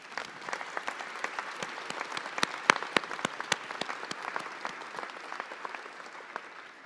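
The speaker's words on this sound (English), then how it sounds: "Let's give them another round of applause." Scattered, fairly quiet applause at a Metro press briefing with the Los Angeles mayor, individual claps standing out distinctly and continuing steadily for about seven seconds.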